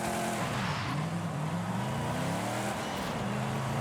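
A car engine in the racing game Forza Horizon 5 drones steadily during celebratory donuts, a loud continuous roar with wavering pitch as revs rise and fall, with tyre and road noise underneath.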